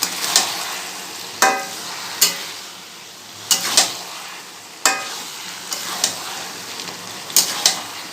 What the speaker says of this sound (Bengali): এবার ভালো করে নেড়ে মিশিয়ে দেব।